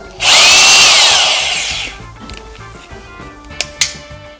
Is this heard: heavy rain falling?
no